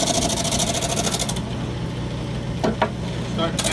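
A lathe-mounted drum sander runs against a workpiece, starting with a high whining buzz that drops away into a steady motor hum, broken by a few short scraping contacts near the end.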